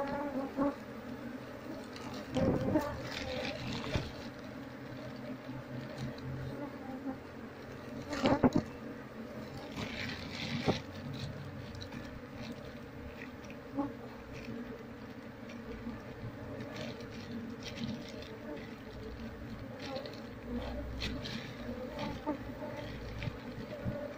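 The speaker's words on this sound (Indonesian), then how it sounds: "Koloni lebah ini menjadi agresif di saat pertama kali kita mengambilnya" A honey bee colony being harvested from its hive drones in a steady, dense buzz, close and continuous, with a few louder handling knocks along the way.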